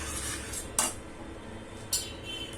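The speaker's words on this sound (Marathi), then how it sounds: "तर चांगलं मिक्स करून घ्यायची आपल्याला मखनी" A utensil stirring makhani gravy for paneer butter masala in a pan, with two sharp metallic clinks against the vessel over a soft background of cooking sounds.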